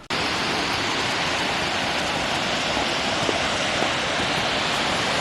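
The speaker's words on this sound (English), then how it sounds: "Budderoo National Park on the south coast of New South Wales is known for its gorgeous waterfalls, and Carrington Falls is one of them." Carrington Falls in Budderoo National Park, New South Wales, pours as a loud, constant broadband rush of falling water close by, with no voices over the roar.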